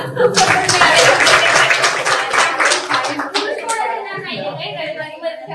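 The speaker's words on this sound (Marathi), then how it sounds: "जोरदार टाळ्या वाजला" Loud applause fills a village assembly meeting, dense rapid clapping from a large crowd that swells at the start, then gradually thins and fades, with a few voices audible underneath.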